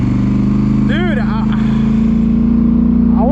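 A Polaris Sportsman ATV engine idles steadily close by with a constant low throbbing hum, while people talk over it.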